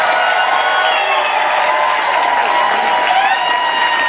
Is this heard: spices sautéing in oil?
no